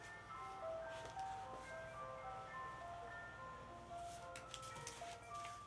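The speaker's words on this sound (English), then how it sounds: "I just didn't want the ice cream truck to be in my background since I have my door open here." An ice cream truck passes by outside an open door on a summer day, its chiming melody of sustained tones playing steadily at moderate distance over a low background rumble.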